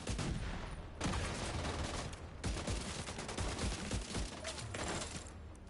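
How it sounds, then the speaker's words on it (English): Sustained light machine gun turret fire in The Division 2, loud and dense rapid bursts with brief pauses between volleys, amid a chaotic game battle. "That's just an LMG."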